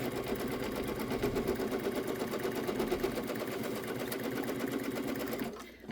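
An embroidery machine stitches a light fill motif in variegated thread on a luggage tag, a fast, steady mechanical chatter running continuously and close before stopping abruptly at the end.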